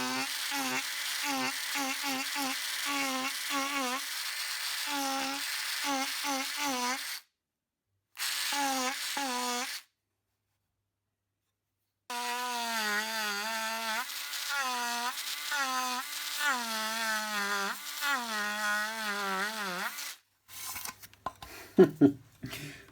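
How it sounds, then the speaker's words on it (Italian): A Parkside electric engraver fitted with a homemade tip buzzes in short, close, high-pitched bursts, then runs in a longer wavering drone, with silent gaps between runs. "la replica della punta del nostro incisore su materiali morbidi funziona"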